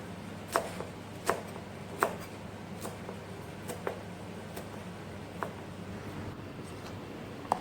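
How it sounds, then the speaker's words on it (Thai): A knife chops green onions on a cutting board in sharp, irregular taps, about a dozen over several seconds, close by with a low steady hum behind. "ตอนสุดท้ายนะคะก็คือหั่นต้นหอมนะคะ หั่นหั่นซอยเล็กๆได้เลยค่ะ"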